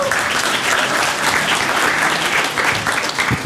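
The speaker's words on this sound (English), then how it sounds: "So give Helio a big round of applause." A conference audience applauds a presenter stepping up for the lightning talks at PyCon SE 2017: loud, dense, steady clapping from a full room that holds for the whole stretch without a break.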